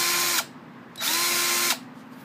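A Porter-Cable 20V MAX cordless drill driver whirs in two short bursts, each a steady high motor whine that starts and stops abruptly with a brief quiet gap between them.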